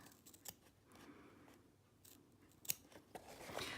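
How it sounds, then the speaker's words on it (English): Scissors make quiet, close snips while cutting carefully along a line, a series of soft irregular clicks and slicing strokes with no talk. "we are going to cut right on the line very carefully"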